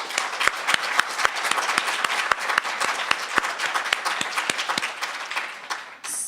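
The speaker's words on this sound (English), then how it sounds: "Will you please join me in giving all of them a round of applause?" An audience at a New School evening program applauds steadily for several seconds, a dense wash of clapping with sharp individual claps standing out, fading at the end.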